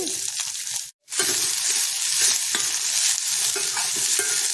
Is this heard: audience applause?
no